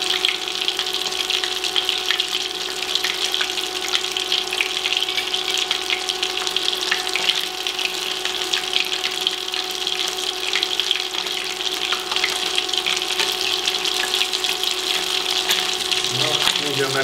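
Breaded cheese cubes fry in hot oil with a dense, steady sizzle and crackle that holds loud and even throughout, close by.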